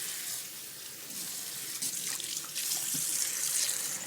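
Cold tap water pours steadily into a bowl for rinsing beans, a continuous close splashing rush that shifts slightly in tone as the bowl fills.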